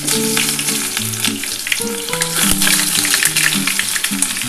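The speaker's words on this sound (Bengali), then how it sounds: "আমার তেলটা গরম হয়ে গেছে আমি দুখানা পেঁয়াজ কুচিয়ে দিয়ে দিলাম" Chopped onions sizzle loudly in hot oil in a pan, a steady dense crackle throughout, with a few clinks of utensils, while other sounds tone in and out under it.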